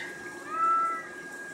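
A single cat meow, clear and fairly close, rising and falling over about half a second against a quiet room background.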